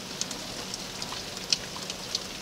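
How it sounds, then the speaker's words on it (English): Rain falls outside as a steady, soft hiss with a few sharper drips and taps standing out, moderately quiet and with no voices. "It's raining outside"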